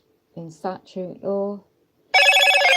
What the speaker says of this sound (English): excuse the noisy phone